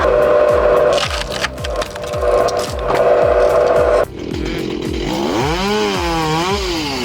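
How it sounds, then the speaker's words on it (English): A Stihl MS 390 chainsaw with an 18-inch bar, mounted on a firewood chainsaw bench, cuts through wood in loud repeated passes, its engine bogging in the cuts and then revving up and down as it runs free. "A chainsaw bench paired with a solid MS 390 and an 18-inch bar means clean, repeatable cuts every time."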